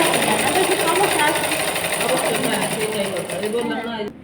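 Sewing machine stitching the body of a three-piece outfit, giving a fast, even mechanical chatter that runs loud and close for about four seconds before stopping abruptly.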